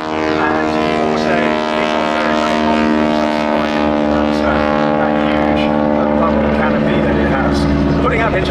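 Historic army aircraft displaying at the Duxford Battle of Britain air show, a loud, sustained engine and rotor drone with strong steady harmonics, overlaid by a commentator speaking throughout.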